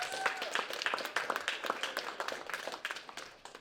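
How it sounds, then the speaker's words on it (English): A small audience at a screening event gives a round of applause, distinct individual claps forming a lively, uneven patter that gradually thins toward the end. "round of applause for yourselves"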